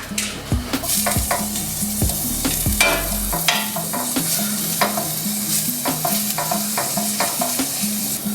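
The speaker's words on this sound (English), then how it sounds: "we're gonna throw in one of these sticks of butter, one of these tablespoons of butter, and we're gonna add our crab meat right to that" Pre-cooked crab meat frying in oil and butter in a pan for king crab rolls, a loud continuous sizzle punctuated by repeated sharp scrapes and taps of a utensil stirring it, no speech.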